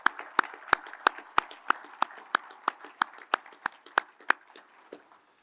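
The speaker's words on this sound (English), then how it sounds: "Let's give those guys a round of applause." An audience at an association's annual state-of-the-association address applauds; the claps are sparse and close, beating in a steady rhythm before thinning out and fading.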